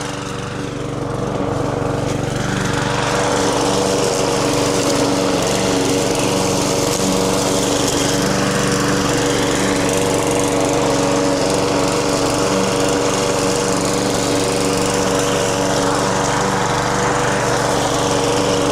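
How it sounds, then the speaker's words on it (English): A lawn mower cuts a garden, its engine a loud, steady droning hum that runs without a break for nearly twenty seconds, close by and with no talking. "we'll do just a little bit of mowing here first, then we can do some other garden stuff"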